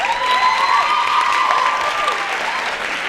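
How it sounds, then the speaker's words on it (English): An audience at the South African Ideas Festival gives a round of applause after an energetic African dance performance: loud, continuous clapping with light cheering and a few whoops, steady throughout. "So can I please have one more round of applause for African Dance?"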